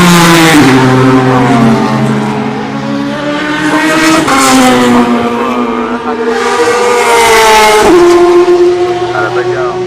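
Le Mans LMP2 prototype race cars roar past at the 24 Hours of Le Mans, engine pitch rising and falling through gear changes, loud and continuous, with commentary talking over them.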